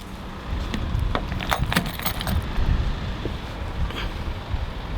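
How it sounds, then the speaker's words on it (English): A bunch of keys jangles continuously as it is handled close to the microphone, with bright metallic clinks in irregular bursts over a windy rustle. "I think I'll have to add my keys as well."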